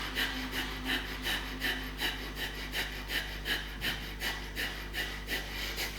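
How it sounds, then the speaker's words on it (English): Brisk, rhythmic yoga breath with the belly flicked forward and back, a steady train of quick, even huffs about three per second, close and breathy over a low constant hum. "Continue breathing briskly."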